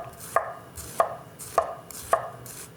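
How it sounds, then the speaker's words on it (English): A knife slices thinly through red onion on a cutting board, four crisp, evenly spaced chops sounding close and alone. "we're also gonna take a little bit of red onion. Slice very thinly"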